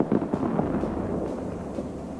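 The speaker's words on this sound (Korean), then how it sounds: "저거 봐, 저거 새로 나온 폭죽" New fireworks bursting in space in the EVE Online video game, a string of sharp crackling pops and muffled booms over a dense, rumbling background.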